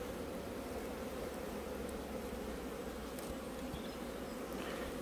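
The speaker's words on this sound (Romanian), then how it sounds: "starterele trebuie să fie plini cu albină, neapărat plini cu albină" A dense, steady drone of many honey bees buzzing close up inside a hive starter, continuous and even throughout with no voices.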